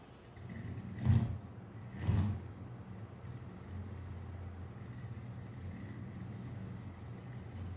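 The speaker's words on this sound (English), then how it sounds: "Listen to this truck, Big T-Bell." Big T-Bell truck engine in a farming video game, a low steady rumble with two louder revving surges early on before settling back to an even drone.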